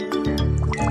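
A cartoon water splashing effect, one short wet liquid squish and drip sound, close and loud, with no talk.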